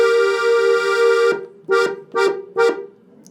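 An accordion sustains a single bright, reedy starting tone for about a second. Three short detached tones follow it, each cleanly separated, all close and clear with no voices.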